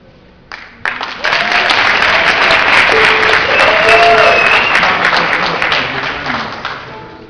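A concert audience breaks into loud, dense applause that swells within the first second and holds steady, thinning only slightly toward the end.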